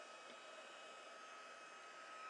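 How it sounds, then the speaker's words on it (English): A Stampin' Up heat gun used for paper crafting blows with a steady, even whooshing hum, close and unbroken throughout. "This is just a heat gun. I use it in my paper crafting."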